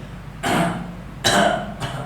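Two or three short, raspy throat clearings in quick succession, close and fairly loud, with quiet pauses between them and no talking.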